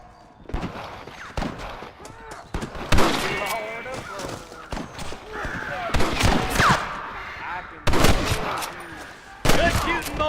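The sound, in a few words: gunfire in the video game Red Dead Redemption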